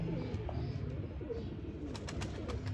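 A Ferozpuri pigeon, a male kept in a pigeon-fancying loft, coos low and repeatedly through a busy background, with a few sharper chirps from other birds toward the end.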